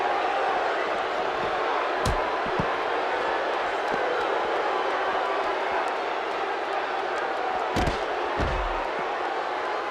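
Steady arena crowd roar from a WWE 2K16 Survivor Series elimination tag team match in St. Louis, a continuous broad wash of cheering with a couple of sharp thuds and slams cutting through.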